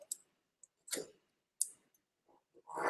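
A decal peels off the body of an '89 Daihatsu HiJet mini truck in short, sharp crackling tears and clicks, separated by silences, close and fairly quiet.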